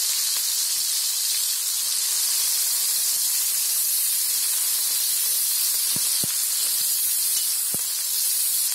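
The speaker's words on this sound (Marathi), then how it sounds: "कांदा पहिला चांगला भाजून घ्यायचा, त्याच्यात कढीपत्त्याची पाने टाकायची" Onion and curry leaves sizzle in a pan, a constant close hiss of frying with a few faint clicks, loud and unbroken.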